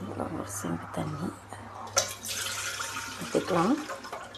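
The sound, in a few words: water being poured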